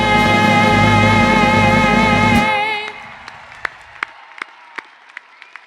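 A graduation ceremony crowd breaks into loud, dense applause after the national anthem is sung. The clapping carries over a sustained musical tone, then fades after about three seconds into quieter scattered claps and a few sharp, isolated hand claps.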